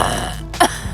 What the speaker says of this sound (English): I don't know how people burp loud.